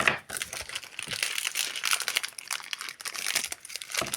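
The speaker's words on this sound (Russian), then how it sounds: "Открываем дубайський шоколад." A Dubai chocolate bar's wrapper is torn open and crinkled, a dense, close, continuous rustling and crackling of packaging with no talk over it.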